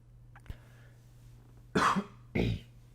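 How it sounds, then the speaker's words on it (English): Two sharp, close coughs in quick succession follow a faint click, with near silence around them. "oh man, I don't know why I'm coughing today"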